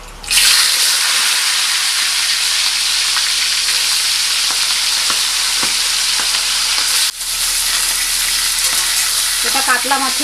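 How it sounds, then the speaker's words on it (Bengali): A large katla fish head fries in hot oil in a pan, giving a loud, continuous sizzle with scattered crackles; there is a brief dip near the middle, and bubbling spatters rise toward the end. "এইবার আমি মাছের মাথা ভেজে নেব।"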